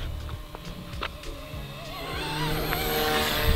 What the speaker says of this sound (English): The little whining noise you heard as it flew over, that's the tail rotor